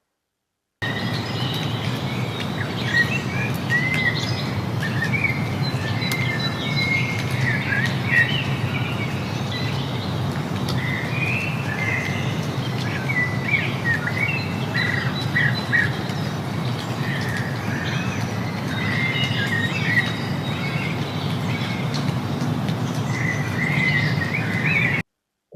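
Birds chirp and twitter at a distance in the bird area of San Diego Safari Park, scattered calls over a steady bed of insect-like buzzing and low outdoor rumble for the whole stretch.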